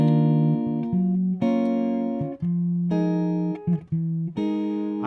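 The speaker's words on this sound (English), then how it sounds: "So I end up with a great sounding progression that sounds like this." A sequence of sustained jazz chords played cleanly on a guitar as a turnaround progression, each ringing for about a second before the next, with a descending bass movement.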